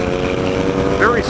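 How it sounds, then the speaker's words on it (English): A 2016 BMW K 1600 GT Sport motorcycle engine held at full throttle against its soft rev limiter, a loud, steady, close engine drone with a brief wavering cut near the end. "There we go, full throttle. The rev limiter cuts in"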